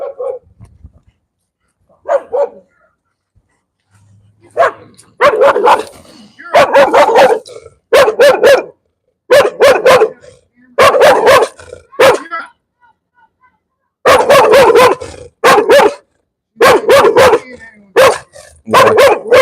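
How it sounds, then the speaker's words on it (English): A dog barks repeatedly in loud bursts at a storage facility in 29 Palms, California, some in quick runs, with yips and whimpers between; the barking is close and dominates throughout. "this dog is back."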